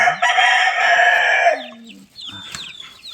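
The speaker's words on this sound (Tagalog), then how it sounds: "6 na Rhode Island Red, isang White Leghorn Rhode Island Red Cross" Rhode Island Red chickens and a White Leghorn–Rhode Island Red cross in a brooder, a loud sustained rooster-like crow for over a second followed by softer scattered clucks and chirps nearby.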